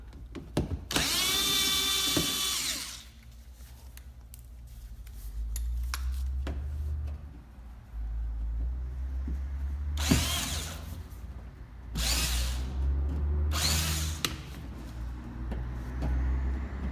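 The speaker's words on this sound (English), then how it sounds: "And then these other 2 we can get with the screw gun." A screw gun drives screws into a Honda Pilot front bumper in several loud, whirring bursts, one long run followed by three shorter ones, with quieter workshop rumble in between.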